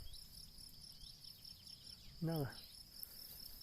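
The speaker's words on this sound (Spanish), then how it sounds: "Nada más que los grillos, las chicharras y todo lo que hay por aquí" Crickets and cicadas chirp steadily in the countryside, forming a continuous high-pitched insect drone throughout, with one brief louder call from a nearby animal partway through.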